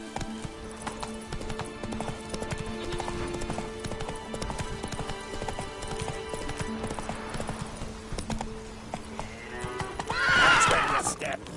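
Roach, the horse in The Witcher 3: Wild Hunt, gallops with a steady, close clip-clop of hooves over game music, ending in a loud whinny near the finish.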